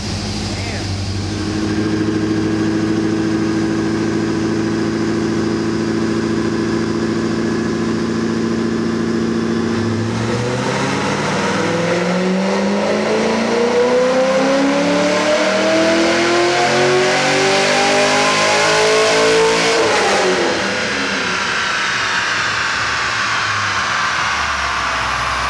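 A Corvette C6 ZR1 engine runs on a dyno, droning loud and close, then climbing in a long sweeping rev pull before easing off. People talk over it throughout.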